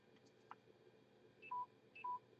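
A mobile phone low-battery alert gives two short, faint beeps about half a second apart over a low, steady background hum.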